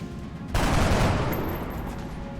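Soldiers open fire in XCOM, a sudden loud burst of rapid overlapping gunshots that starts abruptly and rolls on as sustained volley fire.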